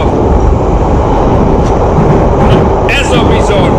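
Rumbling ride aboard an empty London Underground train serving Heathrow airport, a steady loud low roar of wheels and carriage noise throughout, with brief high squeals and rattles near the end.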